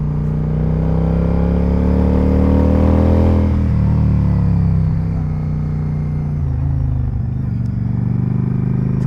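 A Yamaha V-Star 1100 motorcycle, fitted with a Hypercharger, runs loud and close, with a steady rumbling engine note that swells in a rev and then settles back to a smooth running throb.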